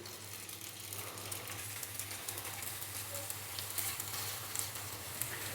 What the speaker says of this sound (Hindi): तो इस तरीके से हम बड़ी एहतियात के साथ इसके अंदर सीख कबाब फ्राई होने के लिए डाल देंगे।